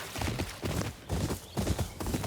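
Hooves clip-clop in the Ghost of Yōtei video game, a regular trotting beat of thudding steps, close and fairly loud, with no speech.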